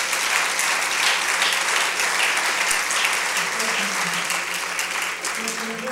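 An audience bursts into sustained applause at a Costa Rican documentary premiere, thick even clapping filling the room, while a voice speaks over it toward the end.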